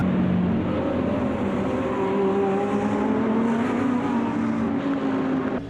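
Race cars including a Corvette, an Audi and a BMW roar around a track in the racing game Automobilista 2, their engines droning steadily with shifting revs as they run close together.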